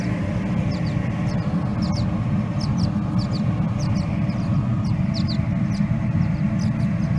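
Birds nesting up in a house's eaves give faint, scattered high chirps throughout, partly masked by a loud, steady low rumble close by.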